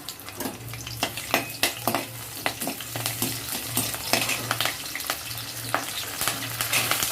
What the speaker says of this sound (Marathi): तेल टाकून घेतल्यावर मी ह्याच्यामध्ये अद्रक लसूण टाकून देईल थोडासा कढीपत्ता